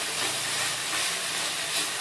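Tomatoes for chutney sauté in a hot pan, a steady broadband sizzle held close and loud throughout, with no talking.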